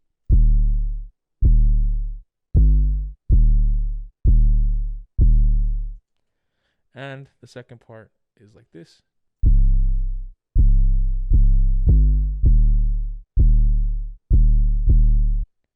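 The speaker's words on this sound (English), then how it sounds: "the most important thing to me is the 808, and it has a pattern like this." Deep 808 bass drum hits play in a steady rhythmic pattern, booming and sustained, with a short spoken phrase in the middle before the pattern continues.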